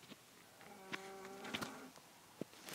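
Cow on a farm giving a faint, short low moo over quiet background buzzing of flies, with a few small knocks.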